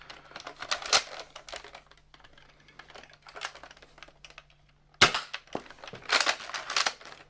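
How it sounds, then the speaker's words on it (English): Zuru XShot foam darts fired from a Nerf blaster with a flip clip, several sharp mechanical cracks and clattering priming clicks in bursts, loud and close, with no voices. "Let's see what happens when we try to fire from these."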